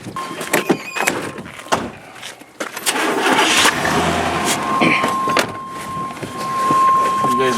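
A 1964 car's engine cranks and starts, a loud mechanical roar with squealing tones that settles into a steady run, close by, with people talking before and over it.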